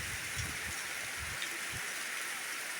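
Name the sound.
heavy rain falling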